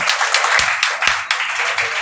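Audience applause greets a newly elected Youth Congress president at a Congress minority cell membership event in Bhiwandi, a steady wash of clapping running continuously for about two seconds with no voices over it.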